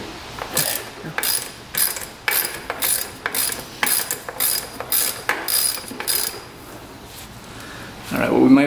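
A ratchet socket wrench on a bolt of a cheap used dirt bike clicks in repeated short bursts of rapid pawl ratcheting, close and fairly loud, with a brief pause near the end and some clattering handling.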